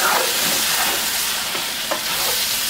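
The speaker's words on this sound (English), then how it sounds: "We're going to just kind of stir this smothering sauce off here for a minute." Sliced onion being stirred through a smothering sauce for pork chops, a steady sizzle with a few scraping spoon strokes against the pan, close and continuous with no talking.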